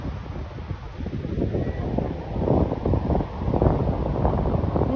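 Wind rushing across the microphone with the low, rolling wash of waves on a shore, steady and loud, with no speech.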